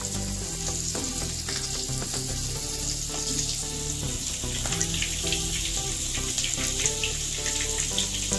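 Stuffed bitter gourds sizzle steadily in hot oil, a dense even frying hiss with a low background hum throughout and small crackles; nobody speaks.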